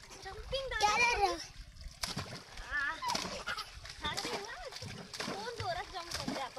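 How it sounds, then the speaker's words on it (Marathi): People jumping into a jungle river beside a temple in the Konkan make several splashes and splatters of water. Excited children's shouting and chatter run over them almost continuously. "कोण जोरात जम्प करते आपण बघू."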